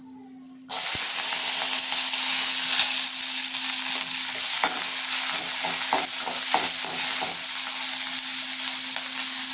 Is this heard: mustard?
yes